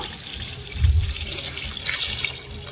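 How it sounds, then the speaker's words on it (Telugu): Water pours steadily into a pot of rice, a full splashing stream that swells briefly and then runs on evenly, close by with no voices. "ఐదు గ్లాసులు వాటర్ పోసుకున్నాను"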